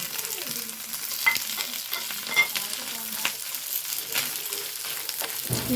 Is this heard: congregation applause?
no